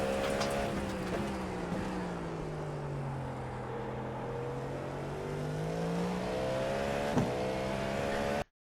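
A GTP prototype race car in the iRacing simulator takes the Tosa hairpin at Imola, its engine a steady drone that falls and then climbs again through the corner, with one short click near the end.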